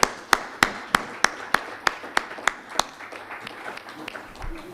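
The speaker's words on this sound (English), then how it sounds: "a round of applause to him as he makes his way." About ten sharp, evenly spaced claps ring out close by at a nuclear energy summit in Kenya, one person clapping a steady rhythm that fades into quiet room noise.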